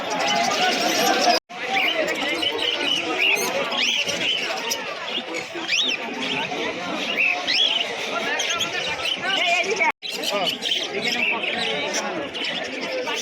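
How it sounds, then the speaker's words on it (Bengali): Many birds, including cockatiels, chirp and chatter at once in a dense, continuous, noisy chorus at a bird and pigeon market, with scattered whistling calls throughout. "এখানে কিছু ককাটেল পাখি রয়েছে"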